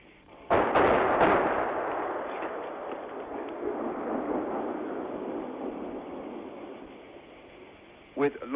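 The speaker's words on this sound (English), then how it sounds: "With long-range mortars, the Turks were shelling Greek soldiers and equipment" Long-range mortar shelling of soldiers and equipment sheltering among orange groves and houses: one heavy, close blast followed by a long rolling rumble that slowly fades, with a voice speaking briefly at the end.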